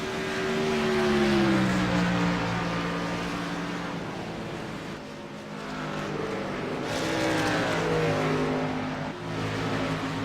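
Race cars lapping at night at Dover International Speedway, a loud sustained engine roar with rising and falling pitch as cars pass close, continuous throughout with no voices.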